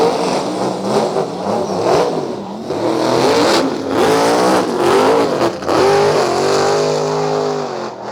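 Drag race cars on 275 radial tires launching and accelerating down the strip at a radial showdown in Australia, loud roaring engines with rising revs and gear changes, close and intense, with brief dips between shifts.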